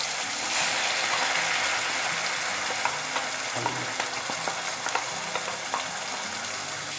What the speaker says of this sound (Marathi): बारीक गॅसवरच आपण ह्या वाटाप चांगला परतून घेऊया